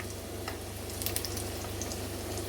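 Round sesame andarsa deep-frying in hot oil: a faint, steady bubbling sizzle with a few brighter crackles, continuous and fairly soft, with no talk.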